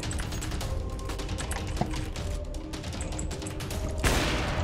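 Rapid Counter-Strike: Global Offensive gunfire crackles in dense bursts over a busy background, ending with a louder burst of shots.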